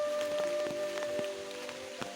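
Rain falling in a muddy village, a soft, steady patter with scattered louder drops and drips close by, fairly quiet and with no one speaking.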